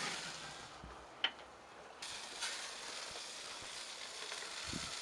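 A flattened spatchcock chicken sizzling in a pan as it finishes cooking, a soft steady hiss with a sharp clink early on and a few faint knocks.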